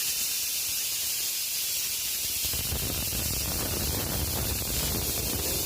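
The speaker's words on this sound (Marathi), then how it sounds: "सो मी आता गॅस लावलेला आहे." A gas stove burner lit in a home kitchen, giving a soft, steady hiss that swells after a few seconds into a fuller rushing sound, fairly quiet and alone.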